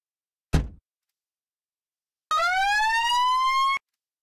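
An emergency vehicle siren in the Emergency 4 game with a Fairbanks, Alaska mod: a short sharp thud, then a loud, steady rising electronic siren tone lasting over a second, heard alone.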